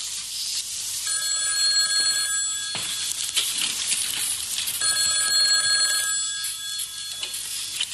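A telephone rings while a call is placed: two long electronic ring bursts, each lasting about two seconds with a short gap between, clear and fairly loud over a faint background hiss.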